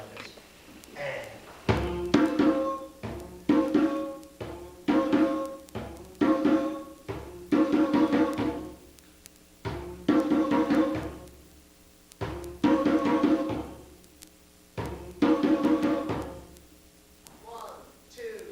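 A two-part African drum rhythm pattern played at a drumming clinic, with repeated sharp hand strikes falling in regular groups of phrases, close and fairly loud, with no talk over it.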